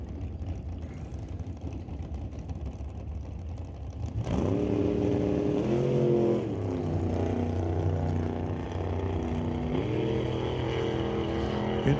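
A drag racing car on a test run uses throttle stops, its engine note jumping up abruptly and then wavering through stepped pitch changes as the throttle is cut and reapplied, loud and close.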